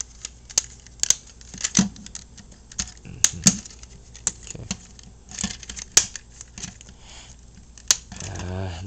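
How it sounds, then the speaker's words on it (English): A plastic Transformers Jolt toy is fidgeted into its Chevy Volt car mode, giving sharp, close clicks and snaps of plastic parts at irregular intervals, with quieter scraping in between and a brief voice near the end. "Bit of fidgeting, and there you have Jolt in his Chevy Volt alt mode"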